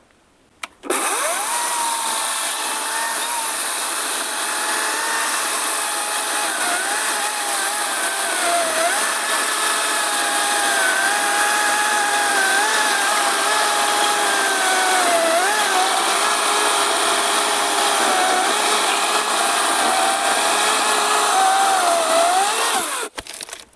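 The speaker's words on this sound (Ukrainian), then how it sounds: "давайте спробуємо сосновий дрючок перепилять на всю шину" A Vitals AKZ 3606 cordless chainsaw cuts through a pine log using the full bar length, a steady high-pitched motor whine held evenly for over twenty seconds, starting and stopping abruptly.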